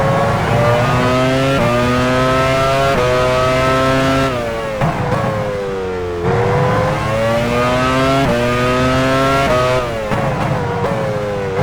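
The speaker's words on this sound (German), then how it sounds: "Mika Häkkinen fährt jetzt aus der Führungsposition in die Boxengasse." Mika Häkkinen's Formula One car from the F1 Challenge 99-02 racing game at the Hungaroring, 2000 Hungarian Grand Prix, pulls into the pit lane, its high engine whine sweeping up and down through gear changes, loud and steady with no voices.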